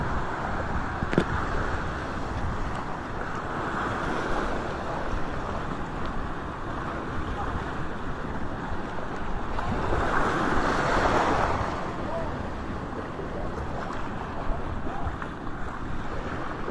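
Ocean surf at high tide rolls along a Philippine shore where traditional net fishing goes on, with a continuous broad wash of waves, rough wind noise on the microphone and one louder surge near the end.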